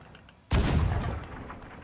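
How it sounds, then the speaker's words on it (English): A ship's cannon in Sea of Thieves fires once with a sudden loud boom, then a rumbling decay that fades over about a second and a half, with no talking. "Somebody firing a cannon?"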